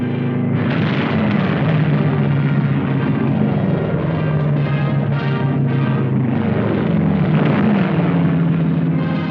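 Military airplanes from the 1940s roar overhead at a wartime airfield where American volunteers trained Chinese pilots, a loud continuous engine drone rising and falling through the whole stretch, heard alone without voices.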